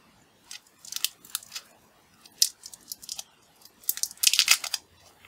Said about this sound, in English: So let's unwrap these 6502 chips